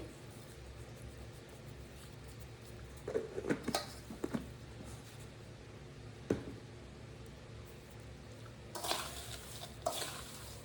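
Masala poha mixture being stirred in a pan with a spoon: sparse scraping clatters and a few metallic knocks in short bursts over a quiet background.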